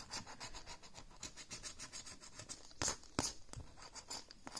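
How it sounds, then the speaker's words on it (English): Fingernail or coin rubbing across the latex coating of a money-multiplier lottery scratch ticket, a continuous quiet rasping in short strokes, close up and fairly faint, with two sharper scrapes near the end and no talking. "let me just scratch the number first"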